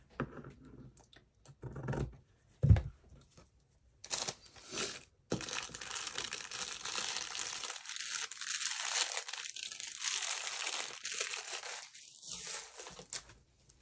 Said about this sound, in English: Okay, so let's cut that.